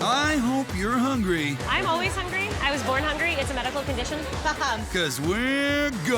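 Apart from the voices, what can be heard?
No distinct noise like a dog, phone or traffic.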